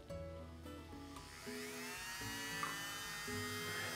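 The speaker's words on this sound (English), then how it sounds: "plug the 12-volt drill into the Maxim machine drill receptacle" A 12-volt power drill plugged into a Maxim machine runs steadily and close by, its motor whine holding a constant pitch with slight shifts in tone as the speed changes.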